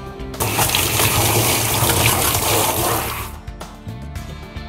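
Running water gushes steadily while rinsing balm out of a short-haired dog's coat during grooming, a loud continuous splashing flow for about three seconds before it tapers off.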